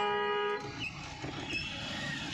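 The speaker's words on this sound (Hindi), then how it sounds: "इसको हॉर्न बजाओ, हाँ, लॉन्ग हॉर्न दो," A car horn sounds in a short steady blast, then cuts off, leaving distant traffic noise and faint further honks.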